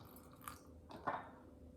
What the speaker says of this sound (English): And here I've got a little bit too much. So I'm gonna pour some out.